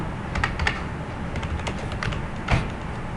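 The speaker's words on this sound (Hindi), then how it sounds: "ऐड नेम देता हूँ" Typing on a computer keyboard while working in MS Word 2007: a steady run of quick key clicks with a few heavier taps, close and clear, with no speech.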